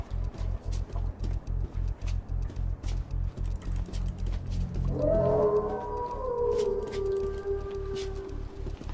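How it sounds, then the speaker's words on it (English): A creature in The Quarry horror game lets out a long, wavering howl that rises over a steady rhythmic pulsing pad, then falls and fades out, fairly loud, with no talking. "Dang, he's howling."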